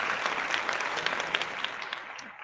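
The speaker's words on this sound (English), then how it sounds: "I'm giving him a round of applause" A small group claps in a steady round of applause, bright and close, with no voices over it for a few seconds.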